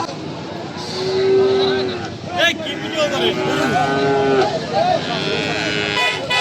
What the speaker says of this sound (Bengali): এই যে একটা দেশি ষাঁড় গরু চলে আসছে।